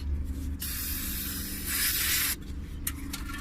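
Aerosol brake cleaner hissing onto a rear brake caliper of a 2001-2007 Dodge Caravan, two steady sprays of a few seconds each, close and loud, followed by a quick brief burst or two.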